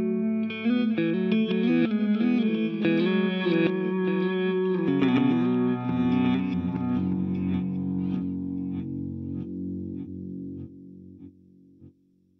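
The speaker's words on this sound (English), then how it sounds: "this is how the reverse delay sounds." Guitar run through a reverse delay on a TC Electronic Plethora X5 pedalboard, with notes swelling backwards into a dense, shimmering wash that trails off slowly into a fading tail.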